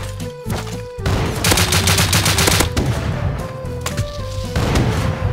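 Rapid gunfire in the survival game Rust, loud, close bursts of repeated shots running almost continuously, with a short gap before a final volley.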